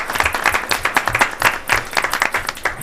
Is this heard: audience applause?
yes